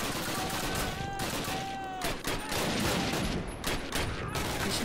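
Rapid, sustained machine-gun fire from a World War II-style Call of Duty video game, a dense unbroken wall of overlapping shots lasting the whole stretch, with faint voices briefly rising through the din.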